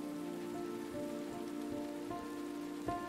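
Rain falls in the video game Road 96 as a steady, soft wash of patter, with sustained musical tones humming underneath throughout.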